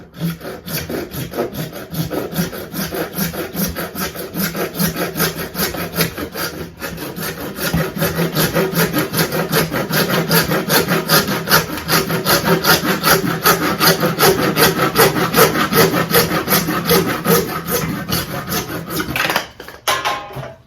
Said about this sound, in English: Took no time for that, just using a saw